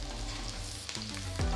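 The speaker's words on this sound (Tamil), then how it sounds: "எண்ணெய் நல்லா சூடானதும் 1 டீஸ்பூன் சீரகம் போட்டு" Cumin seeds sizzle in hot oil in a wide kadai, a steady close crackling hiss with a brief stirring scrape.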